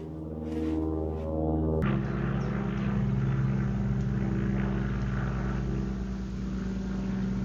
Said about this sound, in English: airplanes flying over my garden all day